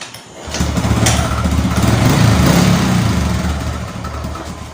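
A Honda RS125 (XRM125) motorcycle is kick-started and catches, then idles with a steady, close, throbbing small-engine putter for several seconds.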